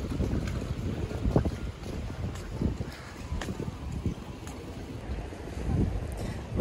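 Steady wind rumbles and buffets the microphone outdoors on a pier by open water, a continuous low roar with gusts swelling and easing throughout.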